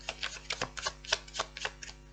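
Tarot cards riffle and slap together in a quick, uneven run of crisp bursts, close and moderately loud, with no voice over them.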